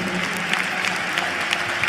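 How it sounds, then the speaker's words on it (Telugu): A church congregation claps loudly during a sermon, a dense, continuous wash of applause with no pauses. "గట్టిగా చప్పట్లు కొట్టున్నావు"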